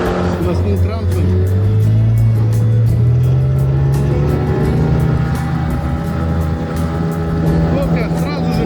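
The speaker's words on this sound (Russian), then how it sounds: "Лодка сразу же моментально выходит на глиссер." Motor boat with a 9.8 or 18 hp outboard on shallow water, the engine loud and near, its pitch climbing as it speeds up and rises onto the plane, with someone talking over the steady roar.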